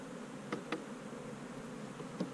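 Bees buzz around an open hive that holds frames, a faint steady drone with a few brief louder passes close by, no voices.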